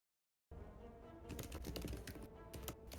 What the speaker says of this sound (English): I hear typing, but not voicing.